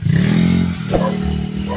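A Kawasaki electric planer, previously faulty with a pinched power cord, runs close up with a steady loud motor hum and a slight rise and dip in pitch over under two seconds, no voices.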